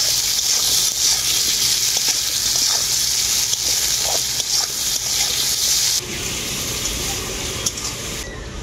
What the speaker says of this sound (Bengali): আলুটাকে এরপর আমি খুব ভালো করে পেঁয়াজের সাথে ভেজে নেব।